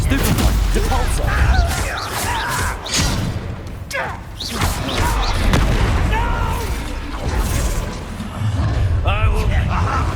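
A Depulsor spell cast in the Hogwarts Legacy video game lands amid a loud battle of booms, whooshes and crashes, with game voices and shouting over the din.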